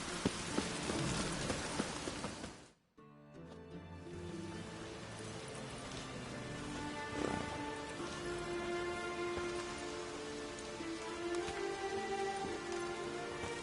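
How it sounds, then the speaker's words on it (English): Rain falls as a steady, dense hiss. A sharp break cuts it off briefly before a softer, continuous patter returns with faint tonal sounds beneath it. "I like rain."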